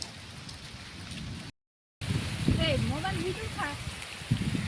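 Steady wind-driven rain hisses across a mango orchard, broken by a short gap of silence and then returning louder, with people talking over the downpour.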